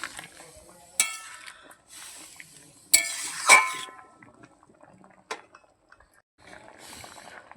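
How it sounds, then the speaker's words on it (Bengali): Potatoes being stirred in a curry pot, a few scattered scrapes and clinks of utensil against metal with soft liquid bubbling, fairly quiet and close. "আলু একটু ঘেঁটে দিচ্ছি দেখুন"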